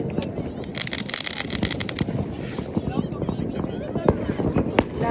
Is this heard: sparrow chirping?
no